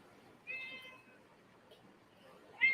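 A cat gives two short meows, one near the start and another at the end, close by and moderately loud over quiet room tone.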